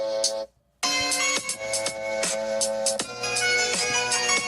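Music plays through an iPhone speaker set to pop mode, a steady layered song with rhythmic beats that stops briefly near the start and then continues without talk.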